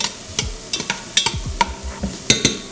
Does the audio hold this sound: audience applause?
no